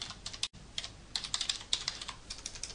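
Someone types on a computer keyboard nearby, producing quick, irregular clusters of crisp key clicks with a brief pause near the start.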